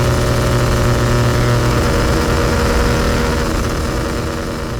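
A 3-rotor rotary engine in a Mazda Capella idles loud and close, giving a rough, unrefined, continuous burbling drone with no voices over it.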